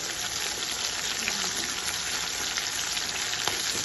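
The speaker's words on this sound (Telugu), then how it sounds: "పచ్చిమిరపకాయలు ఇట్లా బాగా క్రిస్పీగా వేయాలి" Green chillies for pachi pulusu fry in hot oil until crispy, producing a dense, even sizzle that stays close and steady without pause.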